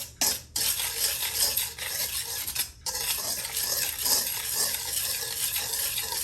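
Dry ingredients for an Amish buttermilk pie, sugar, flour, salt and nutmeg, being stirred in a bowl, giving a continuous gritty scraping and rubbing with brief pauses, close and steady, without talk.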